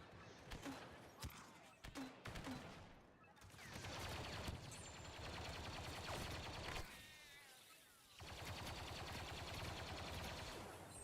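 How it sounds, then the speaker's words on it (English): Covering gunfire in Star Wars Battlefront II, sustained rapid blaster-style shooting that rises into dense volleys, pauses briefly, then returns loud and continuous, with voices talking amid the fire. "Laying down covering fire."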